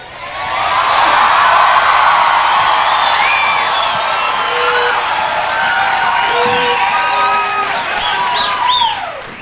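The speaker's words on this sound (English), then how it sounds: "Now, listen to the reaction of the crowd here." A large crowd roars with sustained cheering, whoops and shrill shouts at a church birthday presentation, loud and steady throughout with scattered whistles and yells rising near the end.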